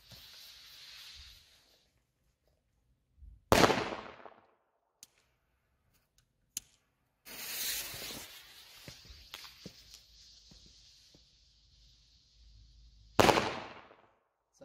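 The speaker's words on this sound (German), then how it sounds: "Super Böller 1 von Komet, machen wir gleich 2 Stück" Two sharp, loud bangs from Komet Super Böller 1 firecrackers on New Year's Eve, several seconds apart, each with a crackling burst, between stretches of hissing fuse and rustling outdoor noise.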